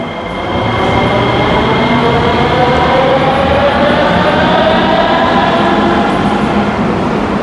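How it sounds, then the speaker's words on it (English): A Sofia metro train pulls out of an underground station with a loud, steady, close rumble that fills the whole stretch, its wheels and motors droning without pause. "We can see a train departing, going in the opposite direction from where we need to go."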